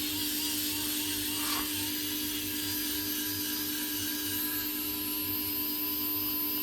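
Several electric fans and an inverter-powered air conditioner running together in a hot workshop, a constant loud whirring drone with steady tonal hums and a pulsing low throb, no talk.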